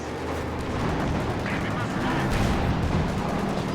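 Battle gunfire and explosions from the real-time strategy game Company of Heroes 2 in a 2v2 multiplayer match, with a dense, continuous barrage of shots and blasts under a voice.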